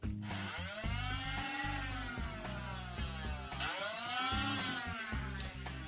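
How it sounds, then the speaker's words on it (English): The flywheel motors of a Nerf Flyte blaster rev up with a whirring, rising whine, spin down, then rev again, with loud close bursts and no talking. "If you push the rev trigger down with a competent amount of force, you can literally rev the blaster through the lock."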